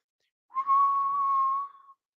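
A person imitates a whistle with a single sustained, slightly wavering tone of about a second and a half, close and clear, with nothing else around it.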